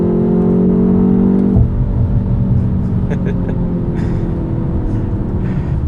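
A BMW 1 Series car accelerates hard on its boost function, the engine droning loudly from inside the cabin before the note shifts as the gear changes and settles into a steady whir.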